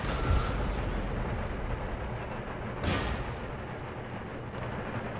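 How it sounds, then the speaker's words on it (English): Cannon and musket volleys in Empire Total War, with a battle near Calcutta: a dense, continuous rumble of massed fire with a sharper burst near the middle, steady and loud throughout without talk. "my guys are firing my guns at them"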